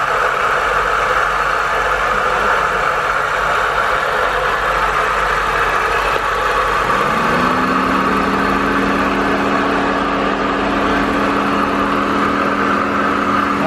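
Dodge Charger SRT-8 with a 6.1 engine and new headers idling in a steady, fairly quiet drone, joined partway through by a second rising hum that then holds level, close and continuous.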